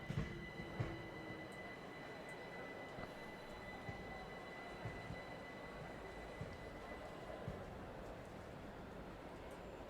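A commuter train pulls into the Brighton terminus in Train Sim World 4, a continuous low rumble of running gear with faint squeals and clicks, steady and fairly quiet, no voices.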